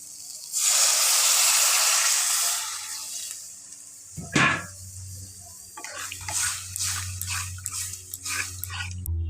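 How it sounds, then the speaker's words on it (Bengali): Water poured into a pan of hot, oil-glossed fried spice paste for a Bengali fish recipe, bursting into a loud sustained hiss that fades, followed by a sharp clatter and softer bubbling and spitting. "সামান্য পরিমাণ জল অ্যাড করব।"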